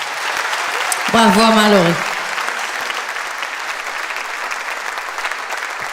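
Audience applause on a French television show, a steady wash of clapping running the whole time, with a voice briefly speaking over it near the start.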